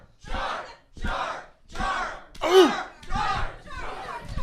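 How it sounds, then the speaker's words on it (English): A live audience chants the word "jar" in unison, about six loud rhythmic shouts roughly evenly spaced with brief pauses between, from a crowd at a live comedy show. "A chant. I like a chant."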